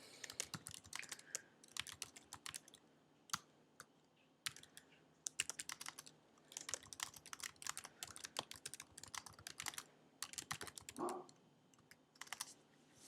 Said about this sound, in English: I've typed a little message